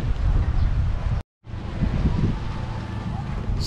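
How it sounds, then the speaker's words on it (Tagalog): Wind gusts across the deck of a moving ferry boat, roaring and buffeting the microphone loudly and continuously, with a sudden brief dropout to silence partway through before the rush resumes. "Guys, sarap ng hangin."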